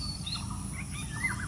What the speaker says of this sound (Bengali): আর এই যে পাখির কিচির মিচির